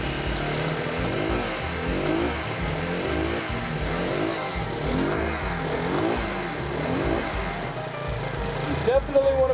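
A Yamaha TT250 motorcycle engine idling and warming up after assembly, a steady loud mechanical thrum with throbbing low pulses running throughout, recorded close by, with a few sharper knocks near the end.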